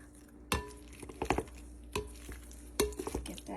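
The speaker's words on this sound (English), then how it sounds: "we're going to give that a gentle mix" Meatloaf mixture with tomato sauce mixed gently in a bowl, giving soft, close scraping and clinking taps of a utensil against the dish in an uneven rhythm.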